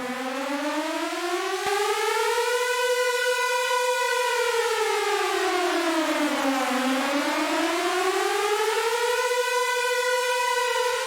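Synthesized air raid siren built in the Vital synthesizer, a loud continuous wail that rises and falls in slow sweeping pitch glides, with a brief click early on, heard alone with no talk.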